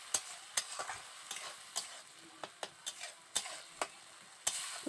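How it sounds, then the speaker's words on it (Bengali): Tomato paste is stirred and fried down in a pan for a Kolkata-style egg and potato curry, a quiet thick simmer broken by repeated sharp spoon taps and scrapes against the pan, irregular and close. "টমেটোটাকে এবার ভালো করে আমি কষিয়ে নেব যাতে টমেটোর যে কাঁচা গন্ধটা চলে যায়"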